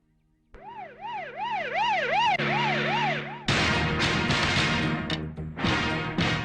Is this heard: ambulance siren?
yes